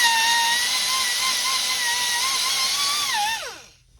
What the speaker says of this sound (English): get my little air tool here with a Scotch-Brite pad on the end